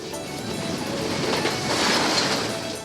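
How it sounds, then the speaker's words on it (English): A passenger train running east along Florida's Panhandle gives a steady, close rumble with rhythmic clickety-clack from the wheels, swelling slightly in the middle and heard alone. "the train continues east, traversing the length of Florida's Panhandle"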